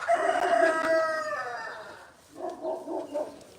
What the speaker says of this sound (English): Chickens, are you laying eggs?